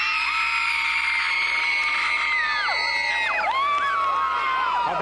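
Baseball crowd in a stadium screaming and cheering loudly and continuously, a dense wall of high yells and whoops with individual shrieks rising and falling toward the end.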